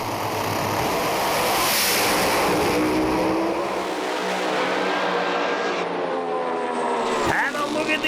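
Loud drag racing car at a speedway start line, a sustained roaring engine note filling the whole clip with a sharp burst near the end as it launches.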